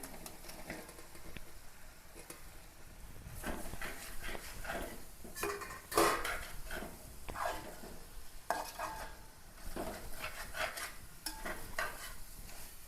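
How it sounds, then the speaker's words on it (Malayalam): Fried chicken being stirred into masala in a pan, with quiet sizzling under repeated scraping and clinking of a spoon against the metal, fairly faint and close. "നമ്മൾ വറുത്ത് വെച്ചിരിക്കുന്ന ചിക്കൻ ഇട്ട് കൊടുക്കാം."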